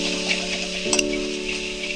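Spice masala with coriander leaves sautés in a pan for pomfret curry, giving a steady close sizzle with one brief stirring clatter near the middle over a low constant hum.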